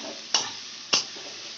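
Carrots and beans frying in a pan, with two sharp scraping stir strokes standing out over a steady soft sizzle.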